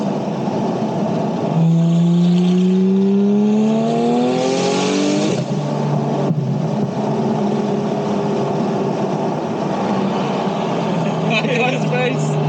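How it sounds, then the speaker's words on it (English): A loud Porsche sports car with an external wastegate roars past with a rising then falling engine note and a sharp whooshing burst, followed by a steady idle-like drone and faint chatter. "When the car goes past and you hear like the external wastegate like off the car"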